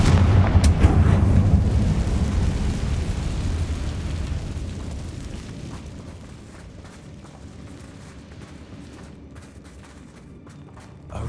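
A Confringo fire spell blasts spiderwebs in the Hogwarts Legacy video game, a loud booming explosion with rumbling low end that slowly decays over several seconds, ending with a faint bump.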